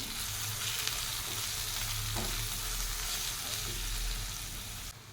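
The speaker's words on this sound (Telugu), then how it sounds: "ఇదంతా మంచిగా కలుపుకోవాలి" Steady, even sizzling of a frying pan as masala with chilli powder is stirred for an egg curry, stirring going on through the hiss and no voices.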